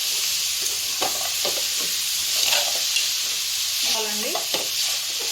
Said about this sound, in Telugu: ఇప్పుడైతే ఇందులో మనం టమాటా వేసుకుందాం